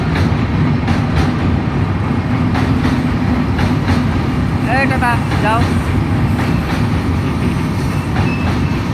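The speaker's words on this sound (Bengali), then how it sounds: "ট্রেন আসছে," A train rolls into a station with a loud, continuous rumble of wheels and carriages, brief squealing around the middle, while people talk close by over the noise.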